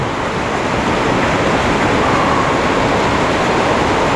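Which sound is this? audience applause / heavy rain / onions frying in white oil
heavy rain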